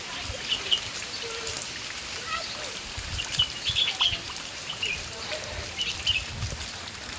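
Light drizzle patters and drips steadily outdoors after a heavy rain, with scattered high bird chirps rising faintly over the soft wash.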